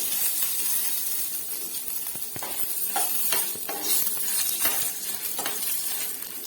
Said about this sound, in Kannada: ಇವಾಗ ಇದನ್ನು ಫ್ರೈ ಮಾಡ್ಕೊಳ್ಳೋಣ ಚೆನ್ನಾಗಿ ಅದು ಫ್ರೈ ಆಗಲಿ